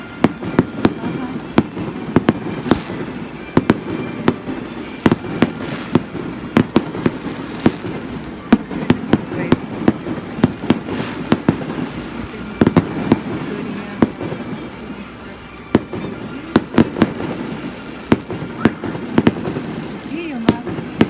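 At the lighting ceremony for the TV tower in Yakutsk, fireworks crack and pop in a long, uneven barrage of sharp bangs, some louder and nearer, with a crowd chattering and calling out underneath.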